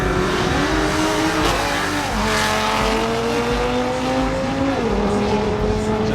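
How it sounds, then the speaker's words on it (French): An all-wheel-drive Audi TT-RS with a 2.5-litre turbocharged five-cylinder on a quarter-mile drag run, a loud close engine drone climbing in pitch through the gears, with brief dips at each shift, sustained without pause. "le but, c'est de battre le record le mondial pour un Audi TT-RS sur le quart de mille"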